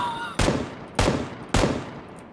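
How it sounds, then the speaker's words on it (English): An automatic gun in PlayerUnknown's Battlegrounds fires three short, loud bursts about half a second apart, each a sharp crack of rapid shots that quickly fades. "If I tap this gun for more than like half a second, it fires like 20 bullets."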